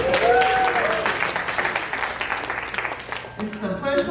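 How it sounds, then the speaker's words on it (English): Audience applauding in a comedy club at the start of a stand-up set, broad steady clapping with some voices and cheering mixed in, easing slightly toward the end. "And a big round of applause for Julie for putting this together."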